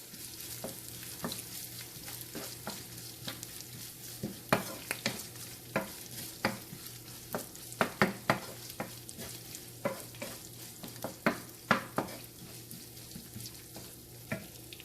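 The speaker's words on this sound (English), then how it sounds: "Once the shallots, green chilies and curry leaves change to a good color, I am going to add the ginger garlic paste." Ginger garlic paste frying in oil with shallots, green chilies and curry leaves for a venison fry, a steady close sizzle broken by frequent sharp clicks and scrapes of stirring, with no talk.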